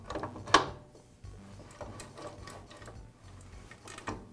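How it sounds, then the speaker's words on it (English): A feed shaft being rotated by hand inside a Jet drill press until its gears mesh gives off a series of soft mechanical clicks and ratcheting rattles, with a sharper knock near the start and another near the end. "install the feed shaft, rotating it until the gears align"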